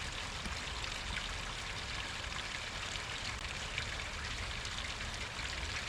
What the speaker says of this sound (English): creates a stream, a little creek that goes down throughout the entire area